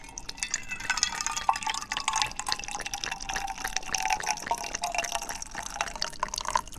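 Hot water left over from morning mate is poured into a glass, with a steady close trickle and dripping that runs the whole time at a moderate level and no talking.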